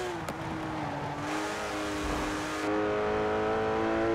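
A 4-litre car engine in Forza Horizon 4 drones at steady revs, loud and close, with a slight rise in pitch and a brief tire squeal, heard alone without talk.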